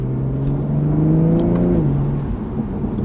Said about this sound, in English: there's definitely like a high-pitched, loud sucking noise with a little bit of like a blow-off